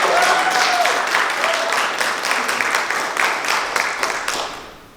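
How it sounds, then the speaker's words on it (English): A crowd at a VidCon Baltimore 2023 panel claps steadily for several seconds, a dense patter of applause that gradually thins and fades out. "So everybody give a round of applause for Amani."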